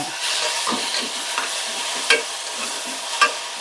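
Tomatoes with garam masala sautéing in a pan for a Tamil-style mutton fry, a steady soft sizzle with a few spoon scrapes and stirs, no talk.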